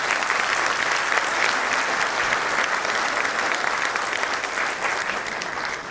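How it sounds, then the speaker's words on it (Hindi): Sustained, loud audience applause fills a Bank of India officers' association annual general meeting hall, steady and dense throughout with no pause. "जोरदार तालियां"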